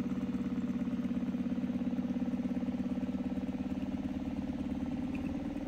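A magnet-powered pulse motor runs on 24 volts, making a close, steady rhythmic hum with rapid regular pulsing throughout, heard alone.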